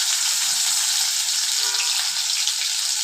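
Garlic and green chilies fry in oil in a kadai for a taro and dry fish curry, a loud, continuous bright sizzle close up with no voices.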